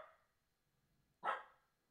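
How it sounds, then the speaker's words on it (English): A single short dog bark sounds at a distance, quiet and clipped, after a faint trailing noise at the start; the rest is near silence. "My dog is barking."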